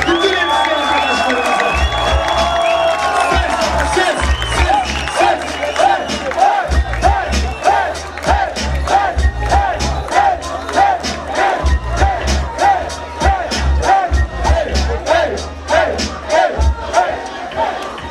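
Crowd at a freestyle rap battle final cheering and applauding loudly, a sustained roar of shouts with rhythmic clapping that builds into steady claps throughout.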